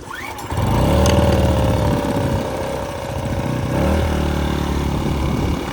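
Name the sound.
AiVolt 1600 generator engine starting and running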